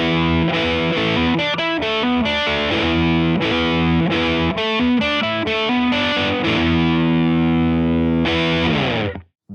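Distorted electric guitar chugs through a riff, loud and driving with rhythmic palm-muted bursts and chord stabs, ending on a ringing final chord that cuts off abruptly.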